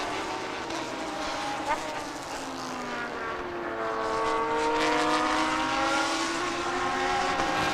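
Race cars, including nearly identical Audis, drone past on a circuit during a Thailand Super Series race, with engine tones rising and falling steadily. A commentator's voice is heard over the engines.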